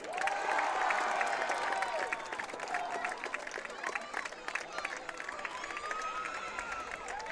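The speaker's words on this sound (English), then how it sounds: "Well deserved applause." An audience claps and cheers, the applause loud at first and then settling into a steady patter with scattered shouts and whoops.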